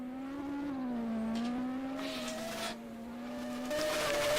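Group C race cars, a Peugeot among them, run on a track with a sustained, slightly wavering engine whine, moderately close and steady, with a couple of louder swells as cars go by.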